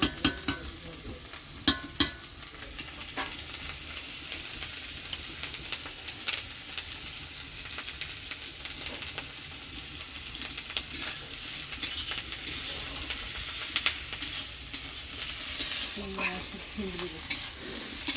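Prawns frying with turmeric and chili powder in a pan, a steady close sizzle running throughout, with intermittent scraping clatters of a spatula stirring, and no talk.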